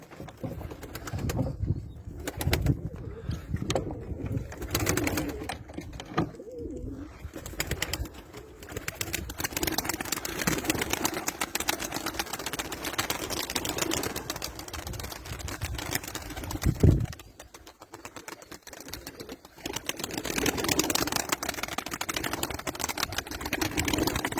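Pigeons flutter and coo nearby after being released by hand, with irregular wing flaps and soft calls over a steady outdoor background hum.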